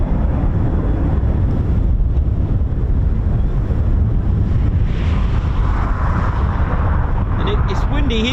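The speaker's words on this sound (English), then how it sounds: "And it's windy here." Strong wind buffets the microphone at the RAF Cranwell airfield, a steady loud roar with gusty low rumble throughout, and a faint voice now and then beneath it.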